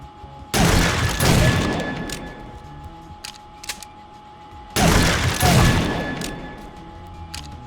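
Two loud shotgun blasts in a video game, several seconds apart, each a booming burst that decays slowly, with a few faint clicks between.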